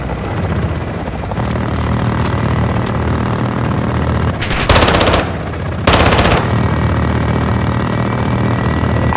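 Gunfire in the Call of Duty Modern Warfare 2 video game: two loud bursts of automatic fire cut through a constant helicopter engine drone, with quieter scattered shots around them.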